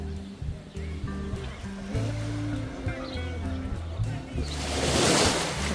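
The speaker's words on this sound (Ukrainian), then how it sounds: "Які хвилі чудові." Sea waves rolling onto the shore at Odesa in the evening, a steady wash of surf with a larger breaking wave swelling near the end, mixed with low background hum.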